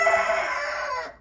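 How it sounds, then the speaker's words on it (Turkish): A single pet bantam rooster crows once, close and loud, the call holding steady for about a second before cutting off. "Gördüğünüz gibi horozumuzu yakaladık."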